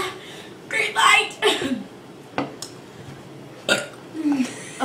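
Several throaty burps from people in a burping contest, loud bursts spread across the moment with quieter gaps and some voices between them.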